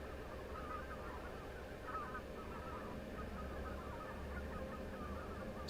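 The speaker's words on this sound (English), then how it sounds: "There's a noise. Geese flying over." Geese passing overhead in the night sky, faint scattered honks from a distant flock over a steady low hum, with a brief louder sound right at the end.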